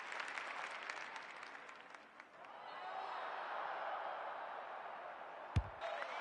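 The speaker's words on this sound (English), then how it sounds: "The crowd noise tells you all you need to know." A crowd at an Australian football match applauds and cheers from a distance, a steady broad wash of clapping that fades and then swells again, ending with a sharp thump near the close.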